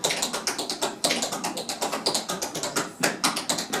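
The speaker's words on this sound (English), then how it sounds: "Making 3 sounds instead of 2 with that shuffle." Tap dance shuffle steps sound on a floor as quick, crisp clicking taps in rapid irregular clusters, close and fairly quiet, with no talking.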